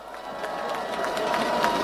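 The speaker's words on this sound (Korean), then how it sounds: "뜨거운 박수 보내주십시오" A large crowd at an outdoor presidential election campaign rally in Chungju, South Korea applauds and cheers continuously, a dense wash of clapping that swells slightly louder toward the end.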